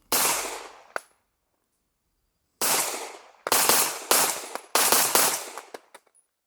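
KMR Orca airsoft pistol fires a single loud shot, then after a pause a rapid string of sharp, close cracks, each with a short ringing tail, alone with no talk.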